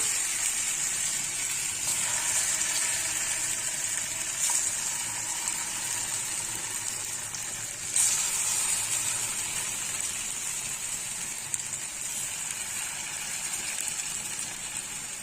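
Raw banana slices, cooked fish-style, fry in a pan with a quiet, steady sizzle that holds evenly for the whole stretch with only slight flickers.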